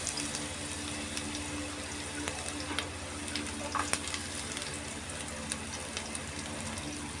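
Garlic and ginger sizzling and crackling steadily in a pan for chicken curry, with a few stirring clinks, close and fairly quiet with no talking.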